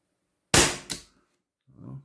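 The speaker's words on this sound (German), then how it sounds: "jetzt kommt der dritte Schuss" A Walther PDP Compact T4E CO2 airgun fires a single sharp, loud shot, with a quick second crack right after, then a brief low rumble and faint noise.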